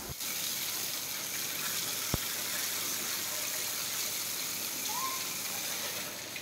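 Water gushing steadily as a cattle shed is washed out in a village, a continuous broadband rush with one sharp knock partway through and no talk.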